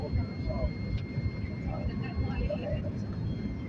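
Aircraft landing at Maiquetía airport, heard from inside the cabin as a steady low engine and airframe rumble that holds at an even level throughout.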